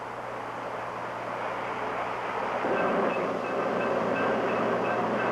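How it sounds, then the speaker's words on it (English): A streamliner passenger train passing through Omaha in the small hours, a steady broad rumble with faint high wheel squeal that grows slightly louder midway, with no voices. "Between the hours of midnight and 3 a.m., 8 streamliners pass through Omaha on their way to and from the West Coast."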